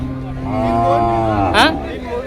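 A native Bangladeshi heifer gives a single long, loud, close moo at a cattle market, with faint background noise around it.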